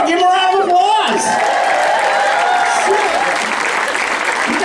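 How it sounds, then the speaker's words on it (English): A comedy club audience applauds a couple married 35 years, loud clapping with whoops and cheers as a voice speaks over the start, the applause continuing steadily afterward. "Tomorrow, give him a round of applause."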